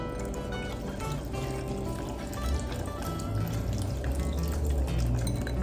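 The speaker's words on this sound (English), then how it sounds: "And I'm going to add 2 cups of water" Two cups of water are poured into a bowl of chicken enchilada soup ingredients and mixed in. A continuous close splashing and trickling runs throughout and grows slightly louder toward the end.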